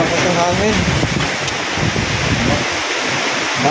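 Flood-time wind and rain rush in a thick, steady wash, loud and close, buffeting the microphone, with faint vocal traces early on.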